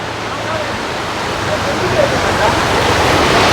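The wide Ghataprabha river rushes in a dense, steady roar close by, a continuous broadband wash of flowing water.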